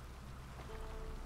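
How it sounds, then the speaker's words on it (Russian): Steady rain in The Witcher 3 game world, a soft continuous patter with faint splashes and a low wash underneath, constant and moderately quiet throughout. "дождь нас прикроет, дождь нас скроет, дождь кровь Менге с нас помоет, обмоет, смоет"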